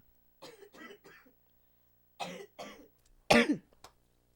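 Several coughs and throat-clearing bursts from a person on a podcast, heard close in short clusters separated by silence, the last one the loudest and sharpest.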